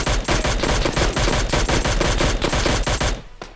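Rapid automatic gunfire from the mobile shooter PUBG Mobile Lite, a dense loud burst of evenly spaced shots that runs for about three seconds before stopping, followed by one last isolated crack.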